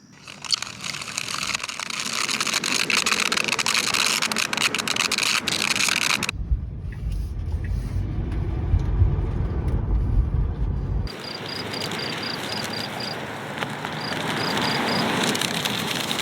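A car drags a Nintendo DS around a parking lot, giving a steady engine drone mixed with scraping and rattling noise, then a muffled low rumble in the middle stretch before the outside noise returns.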